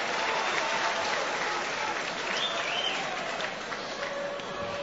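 Rugby league World Cup stadium crowd, New Zealand versus Samoa, applauds in a broad continuous wash of clapping and cheering from the stands, with whistles rising faintly above the roar.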